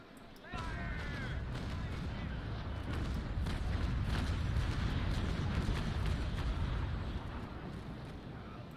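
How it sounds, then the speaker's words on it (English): Ship cannons in the Naval Action naval game, the frigate Endymion firing deck by deck against the Bellona: a loud sustained rolling boom of broadside fire after a brief quiet start, fading slowly at the end. "Gonna fire deck by deck here."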